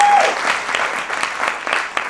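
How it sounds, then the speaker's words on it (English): An audience claps for judges at a screenwriting award event, a dense steady round of applause lasting about two seconds with no clear voices on top. "Yes, you can clap if you want to."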